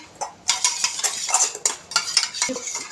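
A spoon stirs eggs with pepper in a metal pan, giving quick, close, rhythmic clinks and scrapes that repeat roughly twice a second, with no voices.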